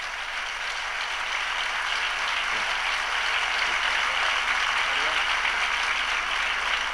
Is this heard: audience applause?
yes